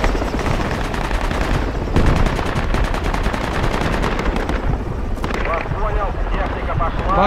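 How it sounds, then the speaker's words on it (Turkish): Dense gunfire in Project Reality crackles continuously, with rapid rattling bursts and single cracks layered over loud battlefield rumble, some shots near and others distant, while voices talk faintly underneath. "Baktım üstüne mermiler geliyor."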